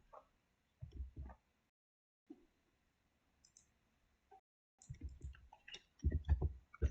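Computer mouse clicks come while a wall is modeled in ArchiCAD. They are brief, soft and scattered, with quiet gaps between them and some low handling noise late in the stretch.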